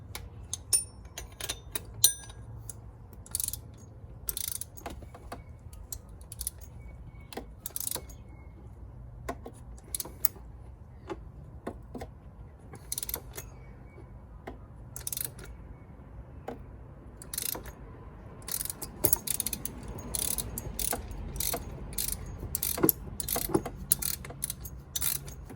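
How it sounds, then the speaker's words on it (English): Wrench ratcheting on a pulley bolt in the cramped engine bay of a Porsche Boxster: sparse, sharp metallic clicks come singly and in quick bursts, growing denser toward the end, over a low steady background hum. "I'm going to come at it, putting the wrench on this side."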